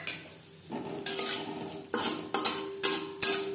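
Broken lentil bori frying in hot mustard oil in a pan, a steady sizzle broken by several scraping, clinking strokes of a spatula stirring against the metal, close and fairly loud with no talk.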